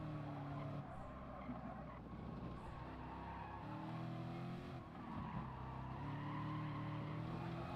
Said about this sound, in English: You can hear those tyres squealing